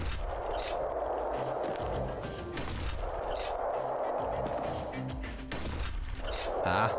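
Gunshots in the video game Bastion sound as several sharp, booming reports at intervals of a few seconds, over a constant game background.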